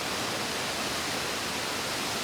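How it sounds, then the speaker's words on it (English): Steady broadband roar of water pouring over Ramsey Falls in Minnesota, a constant close rushing hiss without breaks or voices. "we are here for the waterfalls"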